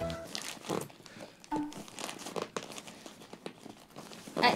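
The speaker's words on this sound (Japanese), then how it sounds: "半透明ゴミ袋、ゴミ収集袋、ゴミ袋ですね" A translucent plastic garbage bag crinkles and rustles in short, irregular bursts close by, with quiet pauses between the handling noises.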